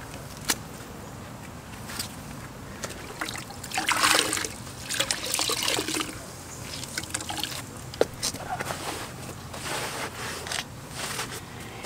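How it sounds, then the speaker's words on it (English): A sponge used for red brick mortar repair is wrung out by hand, releasing a soft close trickle and dribble of water with brief splashy bursts, fairly faint, over a quiet background. "I'll wring this out real good."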